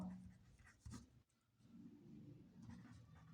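Pen scratching across paper in a maths exercise book, a soft continuous scribble with a brief pause midway, faint and close, with no talking.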